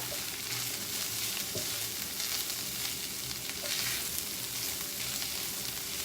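Sausage-style tempeh fries in hot oil in a pan, giving a constant dense sizzle with a few small pops and stirring scrapes, fairly quiet and close, with no voices.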